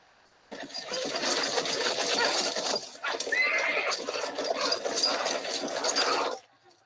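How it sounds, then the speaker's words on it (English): Horses gallop in a race scene from a film, with dense, loud hoofbeats and a broad rush of noise lasting several seconds, broken briefly midway and then ending abruptly. "The horse race begins."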